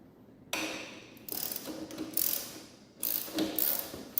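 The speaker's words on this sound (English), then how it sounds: "I'm going to take a crescent wrench to do this. I have this to remove this bottom seat bolt." Crescent wrench working a bottom seat bolt loose on a 1998 Harley-Davidson FatBoy: bursts of close metallic ratcheting and clicking come in several uneven spells, moderately loud, with no talking.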